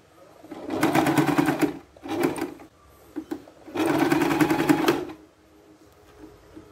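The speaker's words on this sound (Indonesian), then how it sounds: "Nah, kita jahit di sini ya." A sewing machine stitches a 3D cloth face mask, three loud bursts of rapid needle clatter, two long ones around a short one, with quiet pauses between them and no talking.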